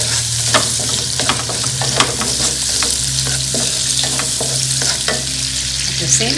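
Lemongrass and lime leaves fry for sambal in a hot pan, a steady loud sizzle broken by repeated scraping stirs, up close with no talking.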